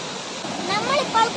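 Rushing water at Thommankuthu waterfall in Idukki, a steady broad roar of falling water heard close and loud for a brief moment, with a faint voice rising briefly over it.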